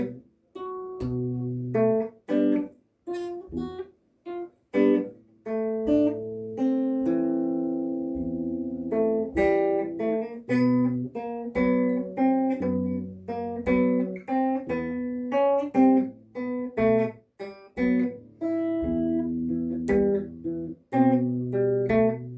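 Guitar playing the intro of a song slowly: plucked notes and chords in an uneven, halting rhythm, close and clear with pauses between phrases, no talking.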